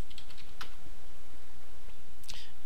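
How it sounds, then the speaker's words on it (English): A password typed on a computer keyboard in Ubuntu 10.10: a few quick, light key clicks, then a short pause and another keystroke, close and faint over a steady hiss. "type in your password"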